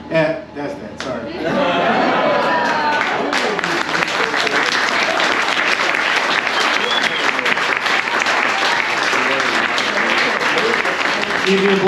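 Audience at a local poets night at a New Orleans poetry festival breaks into loud, sustained applause, dense clapping with a few chuckles and crowd murmur, starting after a brief quieter moment and holding steady throughout.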